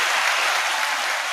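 Canned applause effect played on a date-night talk show, a short loud burst of dense clapping that comes in hot and fills the moment alone.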